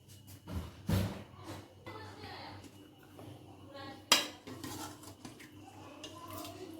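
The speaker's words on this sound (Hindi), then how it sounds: "अब मैं इसको बाउल में निकाल लेती हूँ।" A ladle clinks and scrapes against a metal pot and bowl while aloo chicken shorba is served, with a few soft knocks and one sharper clink, close and fairly quiet under faint background noise.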